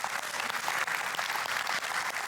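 A church congregation applauding steadily, a dense wash of many hands clapping at even loudness throughout.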